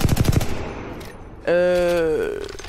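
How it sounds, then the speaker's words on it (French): Flatline rifle in the video game Apex Legends, a rapid burst of automatic gunfire up front followed by a ringing metallic tonal effect that fades out. "La Flatline tire comme la R301, elle tire comme ça."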